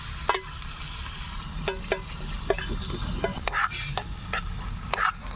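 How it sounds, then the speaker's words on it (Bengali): Onions sizzle steadily in hot oil in a wok over a small mini clay stove, with intermittent scraping and stirring clatters punctuating the continuous crackling frying noise, close up and with no talking. "এখন আমি দিয়ে দেবো কড়াইয়ে তেল। তেলটা গরম হোক। আমি এখন পেঁয়াজ দিচ্ছি এর মধ্যে।"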